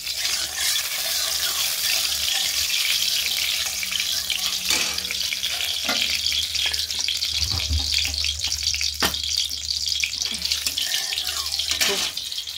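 Green chilies and mustard seeds sizzle in hot oil as tempering for okra chorchori, a steady close frying hiss broken by a few sharp pops and utensil clinks.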